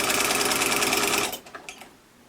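A serger or sewing machine stitches a cloth face mask, running loud and steady at close range for over a second, then stopping abruptly and leaving a few faint clicks and handling noises.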